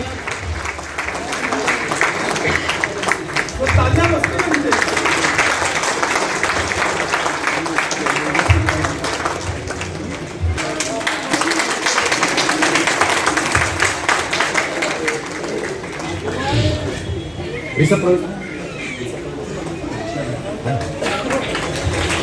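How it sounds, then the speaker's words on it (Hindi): Loud, sustained applause fills a hall as guests are welcomed and honored with shawls, garlands and mementos at a ceremony, a dense roar of clapping with brief dips and swells. "जोरदार तालियों के साथ स्वागत।"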